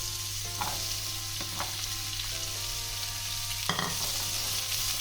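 Pieces of pumpkin sizzle steadily in a hot pan, with occasional scraping clicks from stirring, close and continuous.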